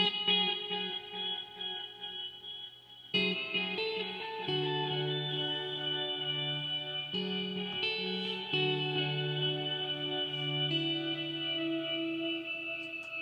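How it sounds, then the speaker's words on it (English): Electric guitar played through a Memory Man delay pedal combined with a POG octave pedal, sustained chords with shimmering octave layers and trailing echoes, changing every few seconds and ringing alone without talk. "Here's that Memory Man with the Pog."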